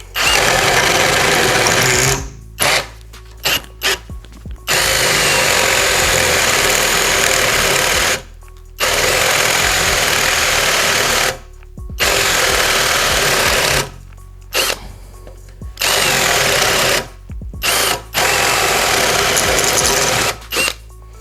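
A Vitals Professional AU 1860Pbt cordless drill bores with a 40 mm spade bit at second speed, whining loudly in several long bursts separated by short pauses, with a couple of quick stop-start spurts near the middle.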